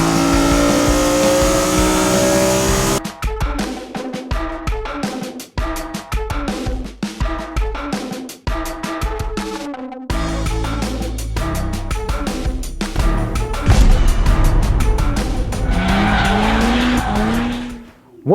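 A BMW Z4 M Coupe fitted with a CSL carbon airbox roars loudly, its induction noise rising and falling through repeated revs and gear changes, with tyre squeal and a brief rising whine near the end; no talking.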